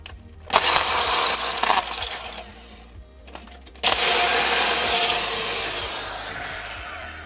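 A power drill with a 10–11 mm bit bores a second hole into a wall to install a safe. It gives two loud grinding bursts of about two and three seconds, with a brief lull between them.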